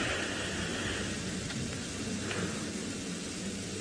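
Distant thunder rumbling above the clouds during a safari drive, a broad low roll beneath a dense, steady wash of rain-like noise, continuous and fairly loud for the whole few seconds.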